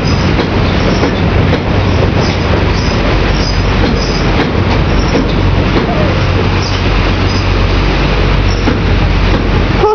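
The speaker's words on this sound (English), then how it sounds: "Class 465 in normal livery, normal yellow old Connex livery." A Class 465 electric multiple unit in old yellow Connex livery runs at London Victoria station, giving a loud, continuous rumble with rail clatter and faint wheel squeal throughout the ten seconds.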